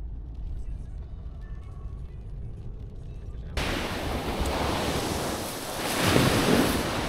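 Sea waves break on the coast of southern Italy, starting as a low rumble before a sudden loud wash of surf takes over and swells toward the end, with wind buffeting the microphone.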